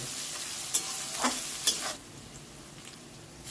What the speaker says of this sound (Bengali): পেঁয়াজটা দিয়ে সুন্দর করে নেড়ে চেড়ে একটু ভেজে নেব